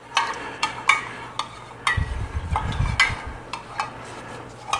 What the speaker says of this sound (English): So now is the time we want to pour our lye mixture into our oils.